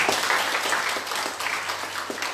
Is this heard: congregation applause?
yes